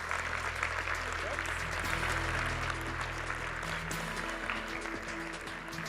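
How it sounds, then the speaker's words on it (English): Audience applause at the Re:Think 2015 Great Mind Awards ceremony, a continuous, even patter of many hands clapping at a moderate distance, with a low hum and faint background voices underneath. "please join me in a big round of applause"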